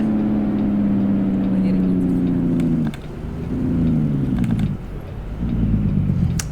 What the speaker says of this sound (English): Yeah, a bit aggressive on the engine brake.